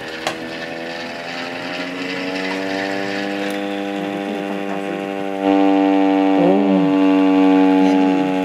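A hand-cranked air raid siren wails steadily and loudly up close, its pitch holding and then swelling louder partway through as cranking continues, with a brief voice heard in the background.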